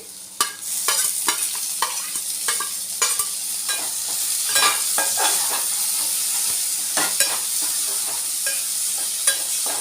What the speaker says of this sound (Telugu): ఇది పచ్చివాసన పోయే వరకు ఇలా కలుపుతూ వేయించుకోవాలండి ఇప్పుడు కొత్తిమీర పుదీనా వేసుకోవాలి